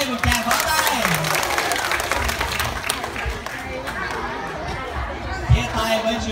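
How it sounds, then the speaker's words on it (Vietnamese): Audience applause at a live show, a sustained wash of clapping mixed with crowd chatter, with a presenter's voice over it. "Xin hãy dành tặng cho Space và Judy một tràng pháo tay."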